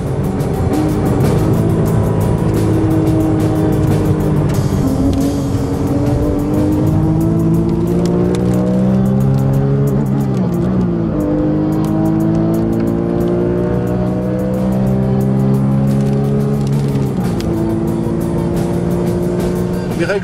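Rally cars from the 2009 Savoie Cup tear along the Chambéry airport runway at very high speed, engines roaring loudly with rising and falling pitch sweeps as they accelerate and pass, continuous and close for twenty seconds.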